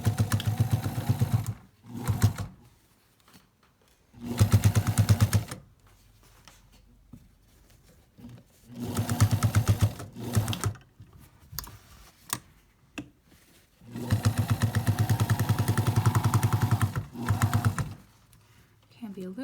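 A sewing machine runs a straight stitch through a fabric face mask in several bursts of steady rapid needle chatter, separated by quiet pauses.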